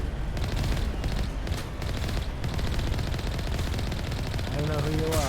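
Continuous rapid shooting from enemy aliens in Mass Effect, a loud rattling barrage that barely lets up, with a voice speaking over it toward the end.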